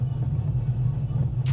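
A nitrous-fed LSX 454 V8 in a Chevrolet Impala SS idles while warming up, a deep, steady low rumble with a slightly lumpy pulse, close and fairly loud, with no one talking.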